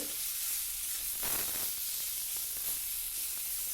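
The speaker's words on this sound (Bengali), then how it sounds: "এইবার ওটাকে একটু নাড়াচাড়া করে নেব।" Greens with salt and turmeric sizzle steadily in a hot pan, a dense continuous frying hiss with soft scraping as they are stirred, close and alone with no talk.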